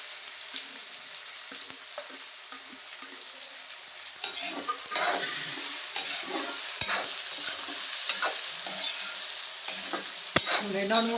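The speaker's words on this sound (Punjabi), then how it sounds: "ਆਪਾਂ ਫਰਾਈ ਹੋਣ ਦੂੰਗੇ ਤੇਜ ਪੱਤਾ ਇਹ ਕੜੀ ਲਈ ਸਪੈਸ਼ਲੀ ਪਾਇਆ ਜਾਂਦਾ ਹੈ" Bay leaf and spices fry in hot oil for Punjabi kadhi. A steady loud sizzle runs throughout, and close stirring scrapes and clinks join in about a third of the way through.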